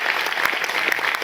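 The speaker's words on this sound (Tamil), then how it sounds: "பயங்கரமான கைதட்டு கொடுங்க." A brief burst of close, dense clapping comes from an audience at a health-product business presentation.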